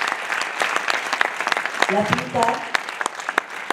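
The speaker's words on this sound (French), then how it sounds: "qu'on peut applaudir vraiment, j'y tiens." Audience applause at a closing ceremony in Hendaye, dense rapid clapping throughout, with a voice speaking briefly over it midway.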